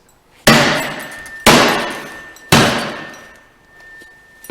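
A recessed steel-framed door with no visible hinges being gapped with a prop tool during a forcible entry drill: three loud, sharp metallic impacts about a second apart, each ringing out and decaying, with no talking.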